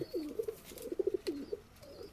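High-flying pigeons coo softly in a loft, several short throaty bursts following one another close by at low volume, with no talking.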